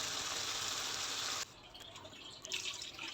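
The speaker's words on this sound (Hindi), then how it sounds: "और हम इसके अंदर डालेंगे पानी" Water pours steadily into a pot of mutton trotters for a moment, then stops, leaving a few soft drips and splashes.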